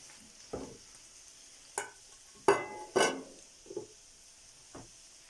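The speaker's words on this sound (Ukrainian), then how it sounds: "Цибуля обсмажилася, викладаю до неї м'ясо." Meat added to fried onion and butter in a pan, heard as a quiet background sizzle broken by several sharp stirring and scraping knocks spaced about a second apart, close by.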